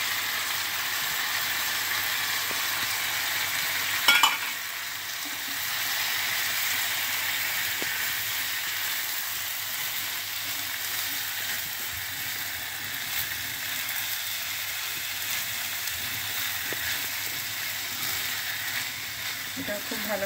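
Rice, lentils and vegetables stir-fried together in a pot for khichuri, giving a steady, even sizzle that carries on without a break, with one brief louder scrape or clatter early on.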